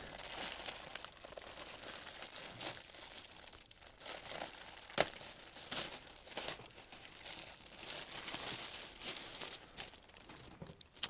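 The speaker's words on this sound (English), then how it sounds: "Get this out of the packaging here." Plastic packaging crinkles and crackles up close as a new Toyota Tundra air filter is unwrapped, giving continuous irregular rustling with sharp snaps.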